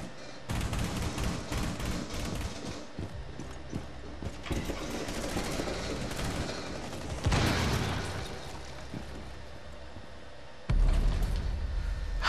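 Rapid gunfire in a Rainbow Six Siege match, dense bursts of shots rattling almost continuously at close range, with a louder burst near the end.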